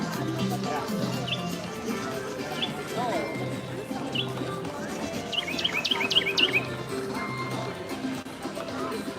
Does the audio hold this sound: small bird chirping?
yes